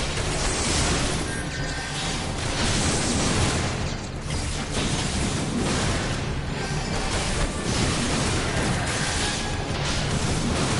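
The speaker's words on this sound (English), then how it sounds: "Got caught up in the explosion." Continuous loud, dense rumbling blasts and crashing noise from an explosion in the video game Final Fantasy XIV, sustained and roaring throughout.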